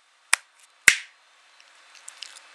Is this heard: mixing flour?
no